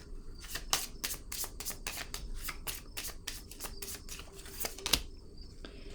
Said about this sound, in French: je vais déposer une carte sur l'équilibre